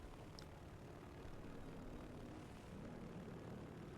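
A propeller aircraft engine drones past in the War Thunder combat flight game, a continuous, fairly faint hum that swells and fades slightly, with no talk.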